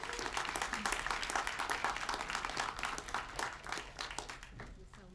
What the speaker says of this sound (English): Please join me in a warm welcome and applause for Dr.